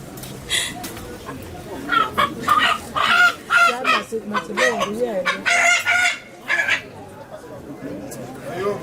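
A rooster at a customary wedding gathering crows and clucks loudly and close by in repeated bursts, with people talking over and between the calls.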